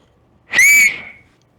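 A single loud, piercing finger whistle rises sharply, holds steady for under half a second, then tails off, heard alone and close.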